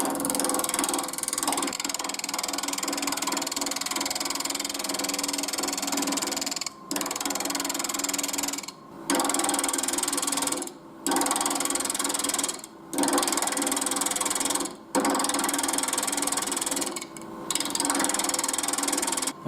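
A wood lathe spins a workpiece as a parting tool cuts a stacked barrel shape, giving a loud continuous scraping whir broken by several brief pauses where the cut stops and restarts.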